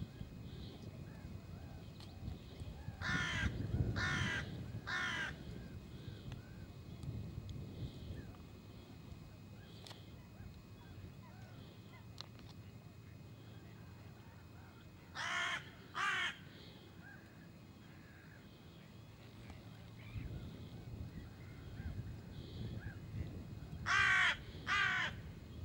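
Magpies give harsh, chattering calls outdoors in three separate clusters of quick rasping notes, moderately close, over a low background rumble of wind.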